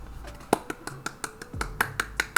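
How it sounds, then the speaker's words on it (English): Hand claps in a living room, a run of about a dozen sharp, close claps in a loose, slightly uneven rhythm, with faint background hum and no talking. "That's me clapping, by the way."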